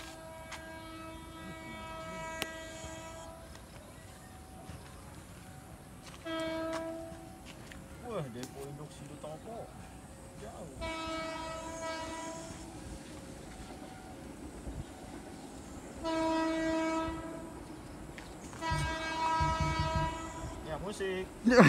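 Train horn blasts repeat several times over rumbling, clattering rail noise as an Indonesian KRL commuter electric train passes, with some voices underneath.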